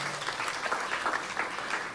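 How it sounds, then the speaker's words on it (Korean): Applause from a TEDx audience in Haeundae, a dense, even patter of many hands clapping at moderate distance for a couple of seconds. "박수 한번 쳐주시고요"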